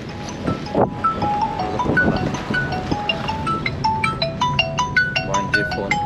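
On a car journey through villages, a phone ringtone plays a bright repeating electronic melody of quick stepped notes, loud and steady over road noise, with no voices.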